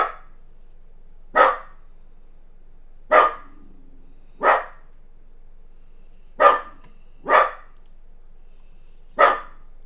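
A dog barks seven times at irregular intervals, single sharp barks separated by silence, moderately close.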